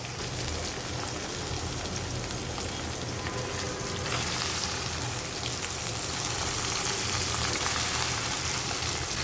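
Chicken pieces and potatoes fry in a pan with fried onion and ginger-garlic paste, making a dense, even sizzle that grows a little louder partway through. No one speaks.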